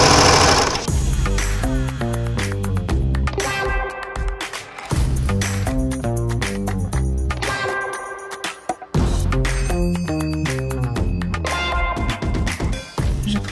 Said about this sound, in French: vous pouvez tout simplement utiliser le point zigzag à la machine